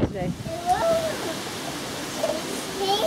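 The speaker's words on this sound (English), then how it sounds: "It's raining outside, so we don't need to do that today." Rain falls steadily outside as a broad, even hiss, with a child and an adult talking over it close by.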